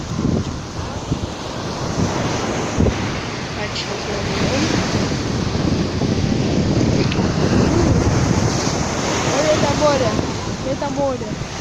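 Sea waves roll onto a beach while wind buffets the microphone in a steady, loud wash of surf, with people talking nearby.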